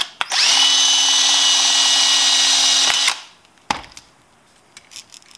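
A handheld power drill whirs at steady high speed while trimming .223 brass cases, loud and close for about three seconds before spinning down, followed by a sharp clack and faint handling noises.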